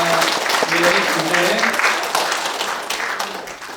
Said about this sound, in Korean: 우리 한번 크게 박수로